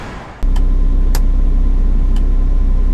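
A Beiben truck engine cranks and catches after a short quiet moment, then settles into a loud, steady diesel idle with a few sharp clicks over the running engine.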